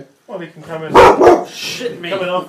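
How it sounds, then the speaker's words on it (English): A pet dog barks loudly and close by, a cluster of sharp barks around the middle of the clip, while someone talks over and around it. "That's my dog"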